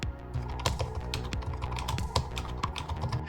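Typing on the soft, spongy budget keyboard of a Commander X16 retro PC: rapid, irregular close keystrokes with muted clacks and occasional louder key hits.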